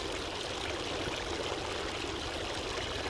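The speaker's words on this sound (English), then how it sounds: "I feel like I could just watch a video of just a fountain running with the sound of water." A garden fountain runs with a continuous, even rush of splashing water, close and steady throughout with no voices.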